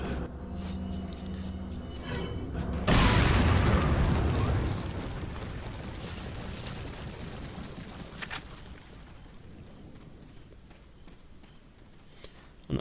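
A grenade blows up in Resident Evil 4, a loud booming burst that rolls into a long fading rumble under game sounds.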